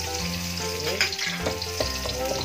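Garlic and onion sauté in a pan for a creamy chicken pastel, a loud, close, steady sizzle with a few utensil knocks as they are stirred.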